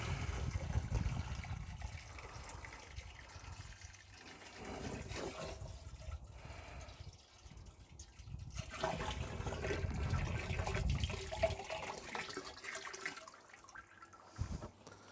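Water being decanted back into a container after a Worx WG630/WG633 pressure washer volume test, a sloshing, splashing pour that rises and falls in steady surges over the whole stretch, fairly close.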